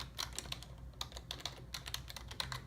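Typing on a keyboard to enter a movie title into a search field, with a quick irregular run of close, crisp key clicks and no talk.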